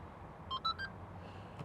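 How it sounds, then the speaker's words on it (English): Three short, high electronic beeps from a 2024 Porsche Macan S tailgate height reset sound in quick succession, clear against a quiet background. "Kind of a unique beep, which really fits in with the Porsche brand."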